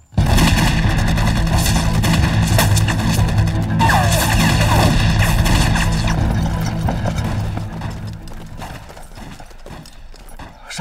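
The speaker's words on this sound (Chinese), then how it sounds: "枪声很激烈，听起来不只有几个人" A loud, dense battle scene from an anti-Japanese sniper war film, with heavy gunfire and clattering impacts throughout that thin out and grow quieter in the final seconds.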